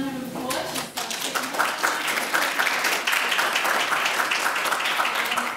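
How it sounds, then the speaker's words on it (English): A business society audience at an internships talk gives a dense round of clapping, rising quickly and holding steady for several seconds. "let's give her a nice round of applause."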